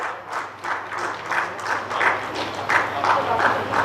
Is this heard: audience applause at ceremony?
yes